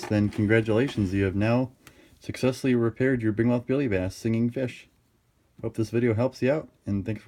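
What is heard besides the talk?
No distinct noise like a dog, phone or traffic.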